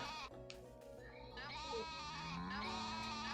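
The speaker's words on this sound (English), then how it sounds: "Why are the sheep being so intense?" Sheep in Story of Seasons: A Wonderful Life bleating insistently, several drawn-out wavering calls overlapping one another at a soft, steady level with no speech.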